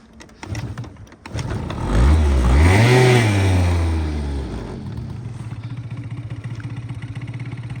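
A small Honda Dio AF-35 SR scooter engine clatters, then revs up in one rising, whining burst before dropping back to a rapid, buzzing idle.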